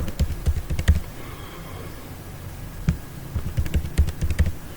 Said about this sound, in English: Then type password,